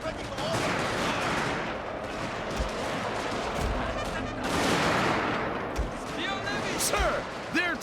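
Musket volleys from line infantry in the Total War: Shogun 2 Fall of the Samurai battle crackle as a dense, ragged fusillade of overlapping shots, loud and sustained, with sharper individual cracks and clatter near the end.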